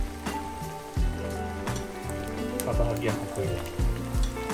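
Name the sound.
frying squash and corned beef until golden brown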